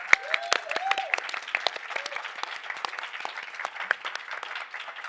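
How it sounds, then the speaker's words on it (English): Small audience applause at a COP28 panel hangout on climate action, a thin scattering of claps with a whoop and a voice overlaid, moderately faint and fairly even throughout. "Can we get a round of applause for them first"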